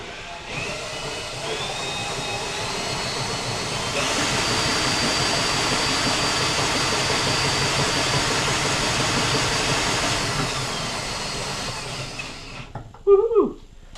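A homemade compact honey extractor spins with a steady broadband whir and hiss that swells louder midway, then cuts off near the end, followed by a few brief knocks and clatters.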